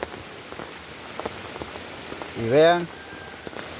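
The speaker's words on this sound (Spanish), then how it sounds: "fuerte la lluvia." Heavy rain pours down in Honduras near a swollen river, a dense, steady hiss of drops throughout, with a brief voice and a short rising vocal sound partway through.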